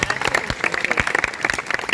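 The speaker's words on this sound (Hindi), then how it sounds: "इसके लिए भी जोरदार तालियां हुई" Dense, continuous clapping from an audience at a Teacher's Day celebration at a school, a loud, fast patter of many hands with no voice standing out.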